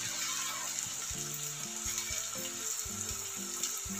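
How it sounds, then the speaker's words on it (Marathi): Fasting snacks deep-fry in hot oil over a medium flame, giving a steady close hiss and crackle with faint low bubbling throughout, no one speaking. "आता हे स्नॅक्स टाकून तळून घेऊयात."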